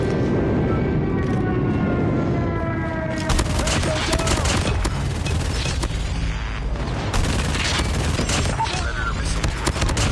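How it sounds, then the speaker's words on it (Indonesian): Enemy airstrike in a video game: a dense, roaring wash of aircraft noise and rapid gunfire bursts, loud and continuous, with a high whine fading early before heavy explosive crackle takes over. "Enemy airstrike incoming."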